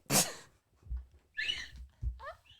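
A single sharp sneeze bursts out at the start, close and fairly loud, followed by a few soft breaths and faint squeaky sounds in a quiet home.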